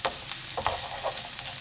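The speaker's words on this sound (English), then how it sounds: "But you want to have a little bit of sizzle" Onions sizzle steadily in a hot pan over turned-down heat for samosa filling, a close crackling hiss with small pops and stirring scrapes.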